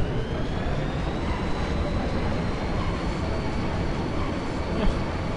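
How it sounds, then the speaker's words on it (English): A steady, heavy rumble of a train departing for Deling City in Final Fantasy VIII, an even continuous roar with a faint whining tone above it, uninterrupted throughout. "This train bound for Delling City will be departing shortly"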